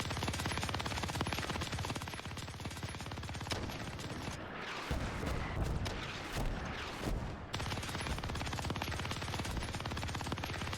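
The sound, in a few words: gunfire in a video game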